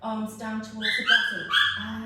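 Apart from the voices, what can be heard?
dog barking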